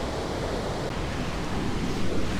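A waterfall at Rhiwargor in Wales roars in a steady, dense wash of rushing water, loud and unbroken from start to finish, with no voices.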